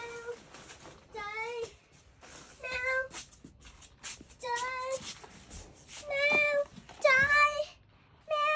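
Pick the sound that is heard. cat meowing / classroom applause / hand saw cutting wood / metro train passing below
cat meowing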